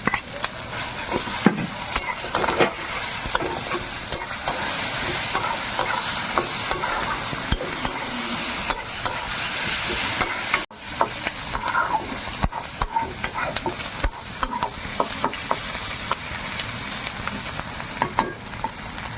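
Taro paste fries in a little oil and is stirred continuously, giving a steady close sizzle broken by frequent scraping strokes of the spoon against the pan.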